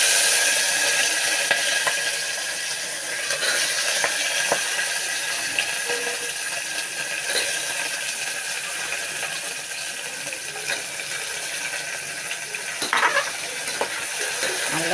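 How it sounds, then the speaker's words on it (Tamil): Vegetables sauté in ghee for a veg biryani, a steady broadband sizzle with scraping stirs and occasional clinks of a spoon against the pan, fairly close and continuous throughout. "இப்போ காய்கறியை இதோட சேர்த்து வதக்குறோம்."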